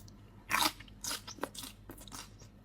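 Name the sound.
munching, loud chewing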